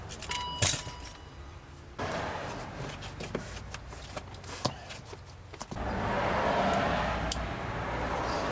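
Car keys jingle and clink in brief metallic bursts, up close, over a steady low background rumble, at a 2003 BMW 525i.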